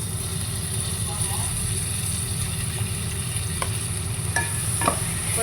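Tomatoes go into a pan of onions and ginger-garlic paste frying for a fish curry, giving a steady close sizzle with a few faint clicks and scrapes, while a person talks over it.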